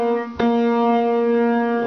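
A flute holds a single note that sounds sharp because the instrument is rolled too far out, one sustained tone, close and clear, with a brief breathy break near the start.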